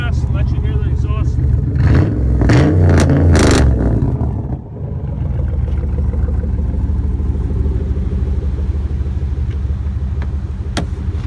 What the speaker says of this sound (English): Let's step on the gas, let you hear the exhaust.